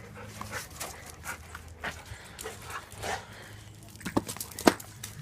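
Dogs bark and whimper while playing outdoors with a thrown toy, a few short yelps and whines scattered across the clip with faint background noise and a sharp louder bark near the end.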